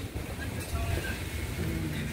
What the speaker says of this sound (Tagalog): lakas pa ng hangin natin mga friend